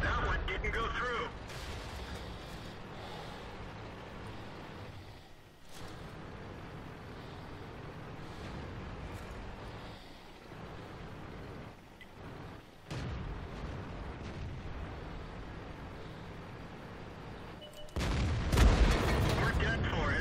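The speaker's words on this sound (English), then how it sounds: "Oh, I got killed by the artillery." Artillery shells from World of Tanks landing around a T28 HTC heavy tank, heard as deep booming blasts over a steady engine rumble, with a sharp, loud impact near the end.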